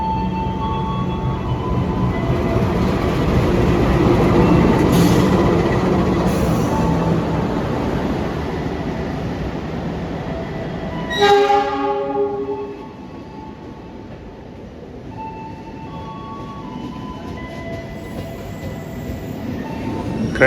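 Mutiara Selatan economy passenger train running on the line near Bandung. Heard from on board, a loud steady rumble of wheels and carriages carries a brief horn blast midway, then settles into a quieter, continuous roll.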